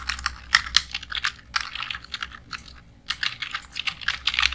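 Rapid, uneven keystrokes on a computer keyboard while text is entered in WordPad during a live class, clicking in quick bursts with brief pauses, close and clear with no voices.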